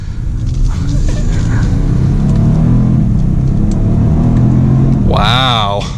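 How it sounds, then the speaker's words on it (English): Genesis G80 3.3T twin-turbo sedan engine accelerating gently, a steady low rumble from inside the cabin with a brief higher whine near the end; someone talks over it. "This is just getting up to speed gradually, giving you a nice comfortable ride."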